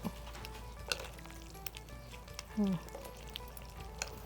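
Steady crackling sizzle of pork rinds (khaep mu) frying in hot oil, with occasional pops and a brief scrape of stirring.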